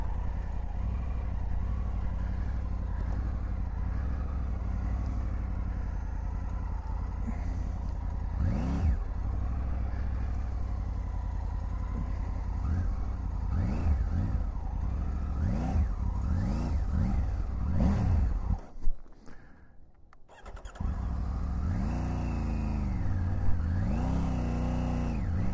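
A Triumph Tiger 900 Rally Pro motorcycle engine revs up and down in repeated bursts while the bike is manoeuvred, with a brief near-silent gap before it picks up again.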